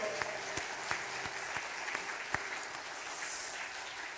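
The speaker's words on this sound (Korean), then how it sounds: "박수로 하나님께 영광 올립니다." A church congregation claps during a Sunday worship service, steady overall clapping at moderate distance punctuated by a few sharper individual claps.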